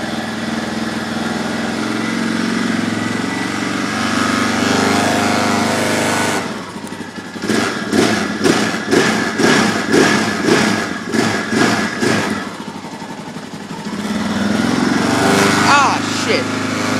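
A Yamaha Blaster ATV engine cold-starts on choke. It sputters unevenly in rapid bursts, then settles into a loud, steady idle close by.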